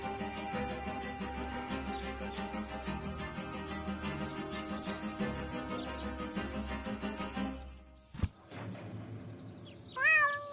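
A cat meowing from up a tree in the video game Deponia, clear plaintive meows over busy game music, with a sharp click and rising cries near the end.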